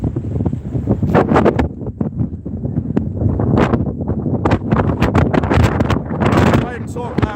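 Gusty wind buffets the microphone during an outdoor morning walk, a steady low rumble running under near, continuous talking throughout.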